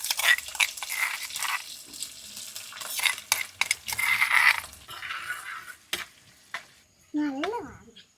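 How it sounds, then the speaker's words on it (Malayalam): Crushed ginger and garlic sizzle in a pan while being stirred, with scraping of a utensil against the metal, a steady frying hiss and a few sharp clinks near the end. "അപ്പോൾ ഇടിച്ച് വെച്ച ഇഞ്ചിയും വെളുത്തുള്ളിയും കൂടി ഇട്ട് കൊടുക്കാൻ."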